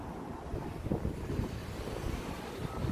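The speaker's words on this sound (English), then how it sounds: "It's a little bit windy in Galashiels." Wind buffets the microphone outdoors in Galashiels in the Scottish Borders, a low, gusty rumble that rises and falls for a few seconds without speech.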